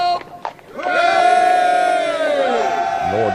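A regiment of soldiers cheering in an English historical radio drama: a big crowd bursting into a sustained, full-throated hurrah after a few faint shouts, loud and close, holding for a few seconds.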